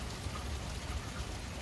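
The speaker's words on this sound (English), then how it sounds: "You can hear the rain." Steady rain falls and patters on surfaces nearby, a dense, continuous hiss with soft drips scattered through it and no voices.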